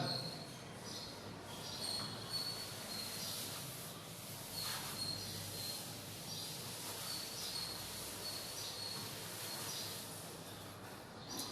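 A classroom blackboard being rubbed clean during a physics lesson on refraction, a steady broadband scrubbing that runs unbroken for the whole stretch at moderate level, with faint birdsong in the background and no talking.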